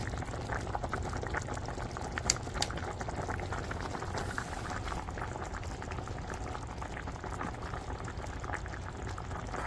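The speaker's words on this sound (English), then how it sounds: "About 15 seconds, and boom, that hard boil on 2." Water at a hard rolling boil in a Dezin 2L non-stick electric cooker, a continuous dense bubbling and churning, close and steady throughout.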